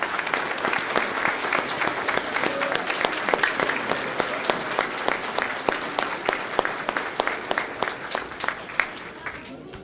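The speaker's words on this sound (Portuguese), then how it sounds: "eu gostaria de pedir aqui uma salva de palmas para as famílias educadoras que estão aqui hoje" An audience at a public hearing on homeschooling breaks into steady, sustained applause, many hands clapping close and loud for several seconds, tapering slightly at the end.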